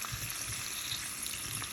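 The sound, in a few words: cherry tomatoes sizzling in a pan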